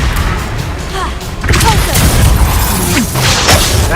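A Confringo blasting spell from a Harry Potter video game hits with a heavy booming explosion midway, and a loud rumbling crash sustains afterward over scattered combat clatter.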